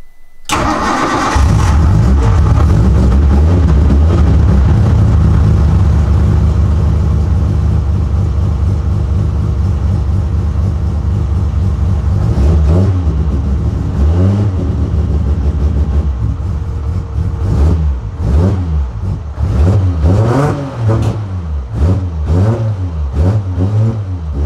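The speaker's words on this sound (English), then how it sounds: "I'll fire it up now with the drive-by-wire idling" An RB26 engine with drive-by-wire individual throttle bodies, cold and untuned, cranks and catches, then runs loud and rough at idle before several sharp revs rise and fall toward the end, with no talking.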